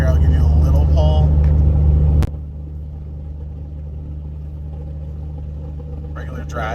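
VW Tiguan with a DSG gearbox pulling away, a loud low engine rumble with rising tone under someone talking, cutting abruptly to a quieter steady cabin hum for the rest.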